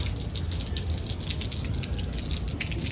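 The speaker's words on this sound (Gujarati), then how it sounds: "એક કોરા ટાંકો સલકાણો છે અત્યારે બધું પાણી પાણી કરી દીધું છે" Water overflowing from a tank onto a rooftop splashes and gushes steadily, close by, with a constant spattering hiss and no voices.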